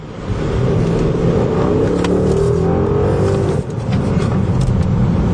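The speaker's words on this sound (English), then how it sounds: "you probably heard a little bit of engine acceleration there" A 2021 Mercedes-Benz S-Class engine steadily accelerating, a continuous rising drone with road rumble, heard from inside the car at moderate loudness.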